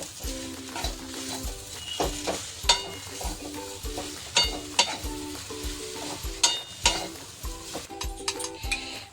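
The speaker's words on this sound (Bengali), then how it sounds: "সব মিক্সড করে নেব।" Soybean cutlet filling is mixed with potato, salt, sugar and garam masala, producing repeated rhythmic spoon scrapes and sharp clinks against a bowl, close and clear.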